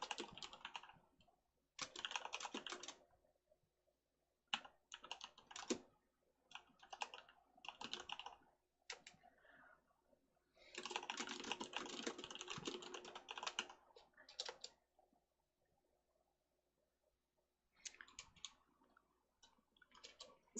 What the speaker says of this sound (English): Here, I'm gonna type it.